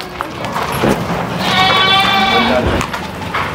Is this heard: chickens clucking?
no